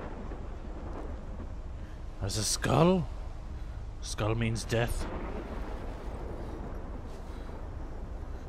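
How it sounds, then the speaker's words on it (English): A storm with thunder in the video game Life Is Strange makes a steady, loud rumbling roar throughout, while someone talks over it in short bursts. "I know the storm's really loud"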